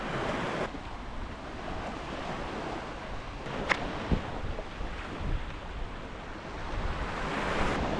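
Sea waves wash onto the beach at Leven in a steady, broad roar mixed with wind buffeting the microphone, with no voices.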